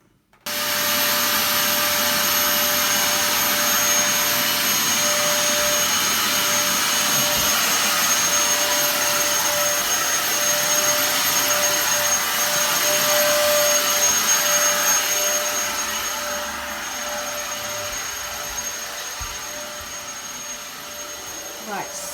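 A vacuum cleaner hoovers a games room, a loud, continuous whooshing roar with a steady whine that runs unbroken for over twenty seconds and eases slightly near the end.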